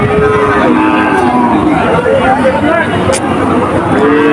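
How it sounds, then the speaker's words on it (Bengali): Livestock at a crowded cattle market in Monirampur, Jessore, with cows lowing amid a dense, loud background of crowd noise and chatter. "দর্শক অনেক গরু আছে এখানে।"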